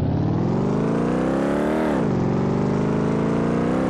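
A Chevrolet Corvette convertible engine in Car Mechanic Simulator 2018 revs hard while driving, a loud continuous roar climbing in pitch, dropping briefly at a gear change, then rising again.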